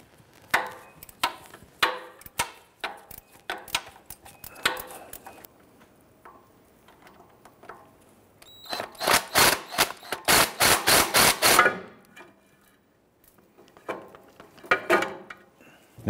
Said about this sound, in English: Using our 15 millimeter socket and extension. And remove that bolt.